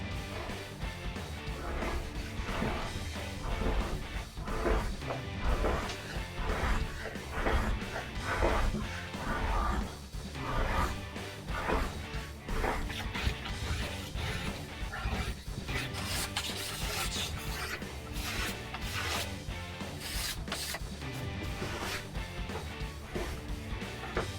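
A card scraper rasps across an oak desktop in a steady run of short, repeated scraping strokes, loud and close, with no talking.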